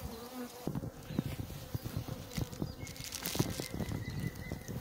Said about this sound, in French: Les abeilles vont monter petit à petit dans la boîte.